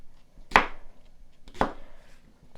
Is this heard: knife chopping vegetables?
yes